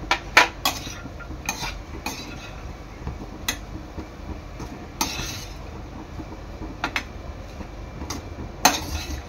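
A spoon stirring cashews, almonds, charoli and pistachios into coconut sweet rice (narali bhat) in a metal pot, giving scattered sharp clinks and scrapes against the pot over a soft background.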